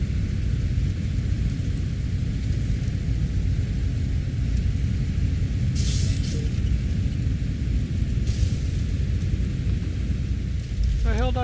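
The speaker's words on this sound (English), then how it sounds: "That's the air brakes making that noise." Truck air brakes in SnowRunner release two short, sharp hissing bursts a few seconds apart over a constant heavy engine rumble and rain-like noise.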